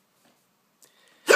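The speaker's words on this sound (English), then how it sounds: "Can't get to sleep because I've got hiccups." A single sharp hiccup bursts out near the end after near silence, loud and close, with a faint breathy sound just before it, early in the morning.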